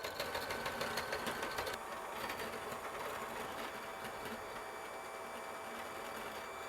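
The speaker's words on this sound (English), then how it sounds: "I am going to use my hand mixer. So let's do that and let's mix this" Electric hand mixer whipping instant coffee for dalgona, a steady close-up motor whir with rattling beaters, louder at first then settling into an even drone.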